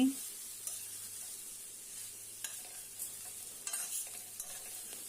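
Cabbage, fried coconut and fried potato curry being mixed in a pan, soft continuous sizzling under repeated spatula scrapes and knocks against the metal, close and moderately quiet.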